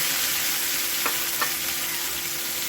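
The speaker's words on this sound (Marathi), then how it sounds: "ती प्युरी आता ह्याच्यामध्ये ओतून घ्यायची" Tomato puree made from four blended tomatoes hits a hot frying pan and is stirred, giving a steady broad sizzle with a couple of brief scraping clicks from the spoon.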